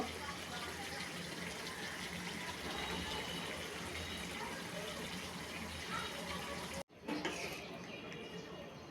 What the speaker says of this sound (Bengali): এবার ঝোল দিয়ে দিব।